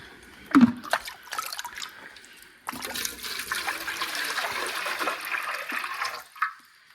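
Water pours steadily from a jug for backyard chickens, a splashing, trickling stream lasting several seconds after a few brief knocks and clunks, close by with no talk.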